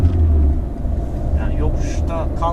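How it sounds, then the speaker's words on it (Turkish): A Fiat Linea 1.3 diesel car fitted with a smart clutch system pulls away uphill, its engine giving a strong low rumble up close while a person talks over it. "frenden hem çekince araba hiç geri kaçırmadan kalkıyor gördüğünüz gibi"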